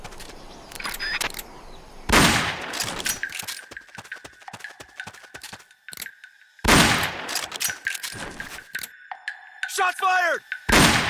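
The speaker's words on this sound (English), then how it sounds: "Shots fired!" Gunfire bursts and single shots crack out in the stealth video game Metal Gear Solid, arriving in sharp loud clusters separated by quieter gaps, with game sound effects mixed in.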